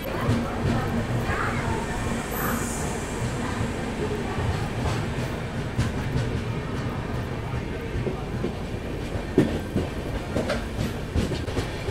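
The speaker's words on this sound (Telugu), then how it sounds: "సో మన ట్రైన్ అయితే డిపార్ట్ అయిపోయింది." A 12713 Vijayawada–Secunderabad Sathavahana superfast express train running just after departure, heard as a steady, loud wheel-and-rail rumble with continuous clickety-clack throughout, plus faint background voices.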